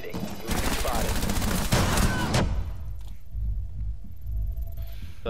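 Rapid bursts of gunfire in a first-person shooter game, dense volleys for about two seconds and then sporadic lighter shots over a background of game noise, with voices speaking over them.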